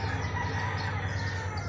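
Gamecocks at a farm in Canlaon, Negros Oriental, crow and cluck together in a continuous, fairly close barnyard din, with overlapping calls and no speech.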